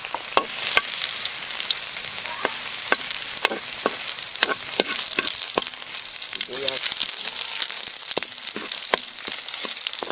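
Garlic frying in a pan, a dense steady crackling sizzle with frequent sharp pops and spatula taps, close and fairly loud throughout, no talking.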